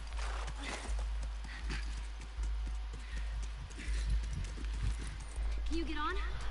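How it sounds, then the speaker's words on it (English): Horse hooves clip-clop in a steady rhythm through The Last of Us, joined near the end by a short whinny, while people talk over the game sounds. "Just get the horse."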